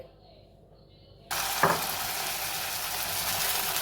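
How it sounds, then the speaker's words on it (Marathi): Batter-dipped stuffed chillies, a fasting-style fritter, hit hot oil and a loud, steady sizzle starts abruptly and carries on to the end, after a quiet start. "आता हे बॅटरमध्ये बुडवून आपण तळणार आहे"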